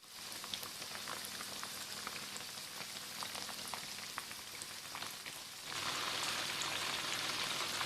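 Chicken frying in oil over a low flame gives a steady, soft sizzle with scattered pops, growing slightly brighter and louder partway through, with no voices.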